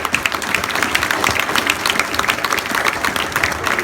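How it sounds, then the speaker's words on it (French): An audience at a carnival gives the organizers a long burst of applause, a steady, fairly loud wash of many hands clapping with no talk. "s'il vous plaît, applaudissez-les bien fort"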